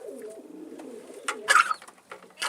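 Pigeons in a loft softly coo with low, rolling calls, followed by a brief sharper flutter or rustle midway, close and fairly quiet, no talk.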